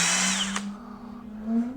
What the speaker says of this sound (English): I'm drilling all the way.